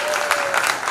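A brief burst of audience clapping at a Hindi kavi sammelan poetry gathering, fairly loud and dense for under a second.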